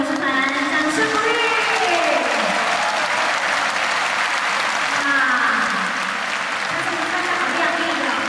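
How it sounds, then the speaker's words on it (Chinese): A large arena audience at the 2013 lion dance competition in Taipei Arena applauds a lion dance troupe, with dense, loud, continuous clapping throughout. "再给我们新北市台湾舞蹈舞团掌声鼓励。"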